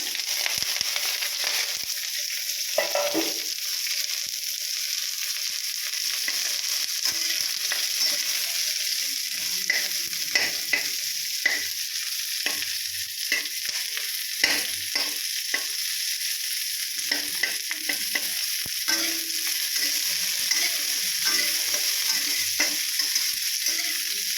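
Onions fry and sizzle steadily in a pan, with a continuous hiss and frequent scraping stir strokes at irregular intervals, close and fairly loud, with no talk.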